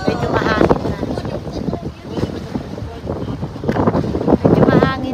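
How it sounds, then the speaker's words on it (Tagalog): Wind gusts buffet the microphone at a scenic beach and picnic area by the water at Porteau Cove near the end of summer, a steady rumbling roar under nearly continuous nearby talking. "Medyo mahangin na."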